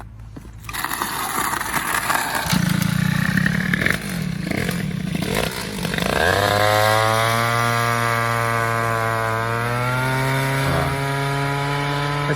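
A Peugeot 103 moped engine with a new cylinder runs close by, a raspy two-stroke buzz that revs up and down before settling into a steady high, slightly rising drone.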